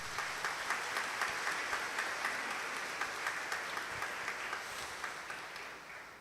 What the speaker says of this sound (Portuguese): dando a Ele uma salva de palmas